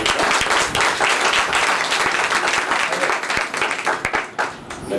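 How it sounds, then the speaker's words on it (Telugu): A church congregation at an anniversary service claps steadily and densely, the applause filling the room continuously at close range with no pauses. "ఒకసారి గంభీరంగా చప్పట్లు కొట్టి ప్రభువును."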